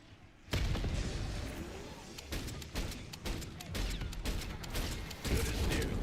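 Heavy in-game explosion and gunfire from a shooter, a loud burst erupting after half a second, followed by repeated sharp blasts and rumbling battle noise throughout.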